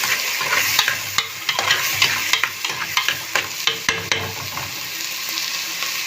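Sliced onions fry in a pan and give a steady bright sizzle, while a spoon stirs them with repeated scraping clicks and taps. The sound is close and continuous, with no talking.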